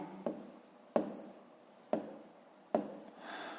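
Numbers written by hand, a pen or pencil making four short scratchy strokes on paper at roughly one-second intervals, close and quiet with no voices.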